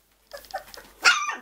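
Puppies make small growls and yips in quick bursts up close, ending in a louder higher-pitched yelp.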